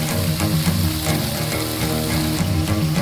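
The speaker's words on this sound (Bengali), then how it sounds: "তখন সামান্য একটু জল দিয়ে দেবে।" Spice masala sizzling in oil after a splash of water for vegetarian chana masala, a loud, dense, close crackle that continues without pause.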